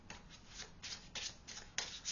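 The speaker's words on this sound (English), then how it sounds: "Oh, I'm shuffling the wrong deck." Soft riffling bursts of a card deck being shuffled, several quick ruffles in a row, close and quiet.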